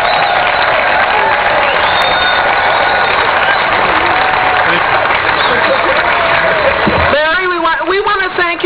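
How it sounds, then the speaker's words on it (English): Sustained crowd applause honoring a municipal band conductor, dense clapping with some cheering at an outdoor ceremony, loud and continuous before a voice takes over near the end. "So let's give a round of applause."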